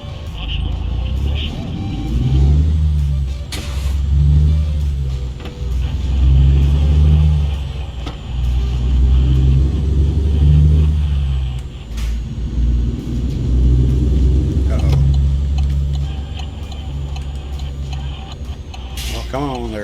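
Truck engine braking in American Truck Simulator while hauling heavy farm equipment: a loud, low diesel rumble that swells and fades in repeated surges as gears change, steady throughout with talk over it.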